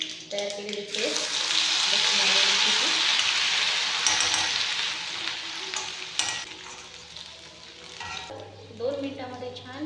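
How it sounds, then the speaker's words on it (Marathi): Garlic and green chilli paste frying in oil after mustard seeds have crackled, giving a loud, dense sizzle that swells and fades over several seconds, with stirring taps near the end. "2 मिनिटांमध्ये छान भाजून निघते हे आपलं लसूण आणि मिरची।"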